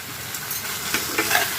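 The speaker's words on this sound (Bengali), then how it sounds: "লঙ্কাটা দিয়ে এবার ভালো করে একটুখানি কষিয়ে নেব" Green chilies and red chili powder stir-fried in a pan for a vegetarian banana-stem dish, giving a steady close sizzle with soft scraping stirs over a short stretch.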